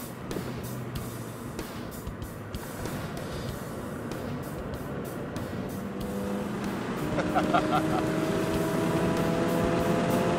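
A Ford Fiesta ST hot hatch lapping the Plains Raceway track in Colorado, its engine droning steadily and building louder toward the end, with rising gear tones from the car.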